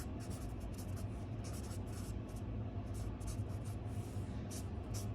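Pen or marker writing out a calculus problem, a steady continuous scratching with rhythmic strokes that runs throughout over a low background hum.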